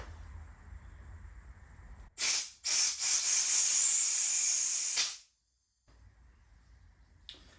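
A loud, forceful hiss of aerosol spray blasts out fuel parts on a 1974 Honda CB450 motorcycle in a short burst, then a sustained three-second spray, before cutting off to silence.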